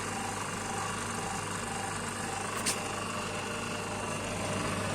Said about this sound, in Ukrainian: Прибори запрацювали, насос працює.